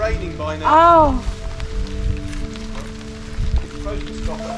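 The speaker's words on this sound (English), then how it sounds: "I thought it would stop raining by now." Rain falls steadily on outdoor surfaces at a home construction site, a soft continuous patter sitting under a voice that speaks near the start, with a low steady hum running beneath.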